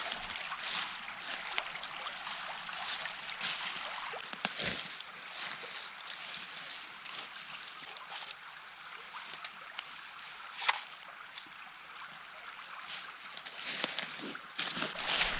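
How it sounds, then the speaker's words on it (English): A creek flowing through the woods in Michigan's Upper Peninsula, a faint, steady trickle and wash with occasional small splashes and clicks. "the creek's gone up a little bit since last time we were here"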